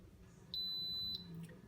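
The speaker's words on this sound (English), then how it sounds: "the timer just went off, 28 minutes has passed" An Instant Pot pressure cooker timer sounds one steady, high electronic beep lasting just over half a second over quiet room hum, then stops; no speech.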